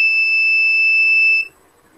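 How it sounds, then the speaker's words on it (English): A homemade touchless doorbell's buzzer sounds one loud, steady, piercing electronic tone for about a second and a half, then cuts off abruptly, leaving quiet room noise. "If the sensor detects, the LED glows, as well as the buzzer alert."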